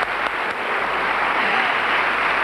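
Studio audience applause on an Italian television variety show, a loud, dense and continuous wash of many clapping hands.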